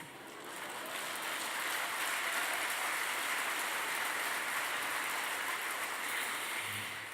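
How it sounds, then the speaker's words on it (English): A lecture audience claps, a broad wash of applause that rises quickly, holds steady and loud, and then begins to fade near the end. "That is the first time anybody has ever clapped when I said that."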